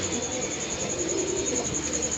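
A pair of pigeons on a rooftop coos softly amid a steady, dense background hum, the low murmuring calls continuing through the whole stretch without clear breaks.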